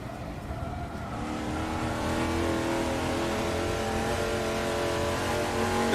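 Touring race cars in the Assetto Corsa sim lapping Goodwood, a steady loud engine drone with layered revving tones from several cars close ahead, continuous for the whole stretch.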